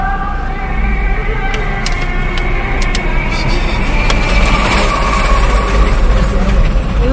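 Heavy truck moving through congested road traffic, its engine a steady close rumble with sharp hisses of air brakes and a constant wash of surrounding vehicles.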